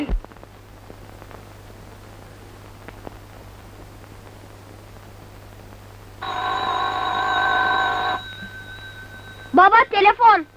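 An old telephone rings in a Turkish film: a steady electronic tone buzzes for about two seconds, then a burst of warbling rings follows near the end, over a low hum and faint room noise.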